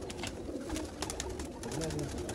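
Red-spotted Sialkoti pigeons cooing close by, soft low repeated coos under a busy background of fluttering and clatter.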